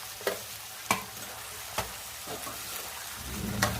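A spoon stirs salt, coriander-cumin powder, chili and turmeric into a hot oil tempering in a pan, a soft steady sizzle punctuated by a few sharp, irregular spoon knocks.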